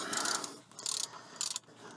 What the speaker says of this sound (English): I'm just going to undo the sump plug bolt so that I can get the oil started to drain.